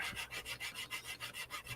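A sanding stick filing the edge of a small model part in steady back-and-forth strokes, about nine even rasping passes, close and moderately loud with no talking.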